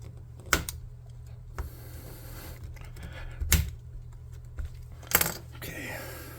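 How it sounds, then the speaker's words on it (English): Scissors snipping craft material, several separate sharp clicks at an uneven pace, close and fairly quiet over a low steady hum. "I am going to snip a little bit of this down."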